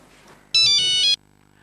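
A telephone ringtone sounds once in a short electronic burst of about half a second, loud and close in a quiet room before cutting off.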